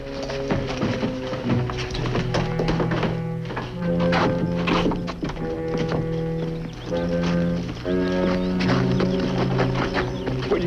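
Hooves thud and clop in an uneven rhythm, close by, with wooden knocks and low rumbling mixed in.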